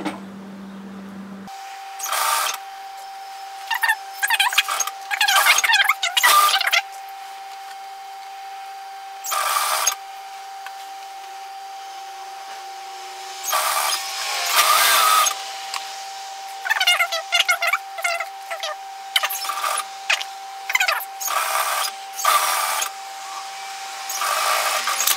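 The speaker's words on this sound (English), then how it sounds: "So because I have tack stitched that into place, it makes this really easy to overlock." An overlocker sews a tack-stitched seam on a wrap hoodie, running in loud rapid bursts that start and stop repeatedly, separated by near-silent pauses, close up with no talking.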